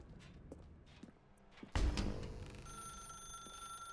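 A telephone rings in the video game The Stanley Parable, a steady electronic bell tone starting after a thud and carrying on alone in a quiet room with faint footsteps before it.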